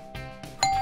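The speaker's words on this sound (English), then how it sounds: "It sounded like a doorbell." A short chiming doorbell rings, bright bell tones sounding in quick succession and ending on a sustained ding, close and clear.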